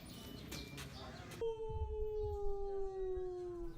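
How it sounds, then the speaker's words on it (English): A dog named Pacholo howls in a long, clear, sustained tone that slowly falls in pitch, preceded by brief background voices and noise. "That's my uncle's dog."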